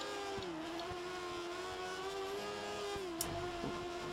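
A high-revving racing car engine in the F1 2013 video game, a classic car with a 5-speed manual gearbox, drones steadily at near-constant pitch, loud and continuous, with a small dip and click around a gear shift.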